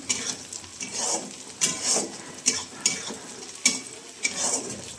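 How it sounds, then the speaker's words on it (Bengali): Food fries in a pan with a loud, close sizzle. A spatula stirs and scrapes it in repeated bursts, about one every second, with no talking. "ভাজা হোক"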